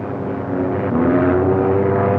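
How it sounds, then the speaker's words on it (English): A 1937 airplane with a big X on the wing drones overhead, a loud steady propeller engine hum that grows slightly louder partway through, with no talking. "another plane. It's a black one."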